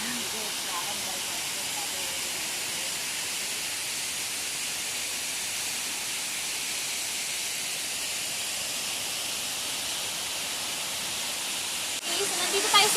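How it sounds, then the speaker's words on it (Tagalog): Inuman-banog Falls gives a steady, loud broadband roar of falling water that stays unchanged for about twelve seconds, with a brief louder rustle at the end. "pinakataas ng falls. Ayan, pinakataas."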